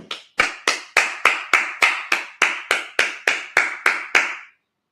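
A congregation at a Sabbath service claps in unison, about thirteen sharp, evenly spaced claps over roughly four seconds, loud and close, then stops abruptly into silence.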